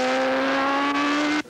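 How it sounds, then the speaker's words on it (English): An AMA superbike racing motorcycle at Laguna Seca accelerating hard out of a turn, a loud sustained engine howl rising steadily in pitch, close by, then cutting off abruptly near the end. "The bikes accelerate really quick."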